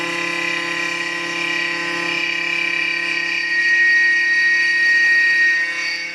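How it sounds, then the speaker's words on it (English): A K2 vertical knee mill spins its cutter through material, giving a steady high-pitched tonal whine with a constant drone beneath. It is loud and close, grows slightly louder toward the end, and no one talks. "As you can see, the cutter rotates rapidly to cut the material"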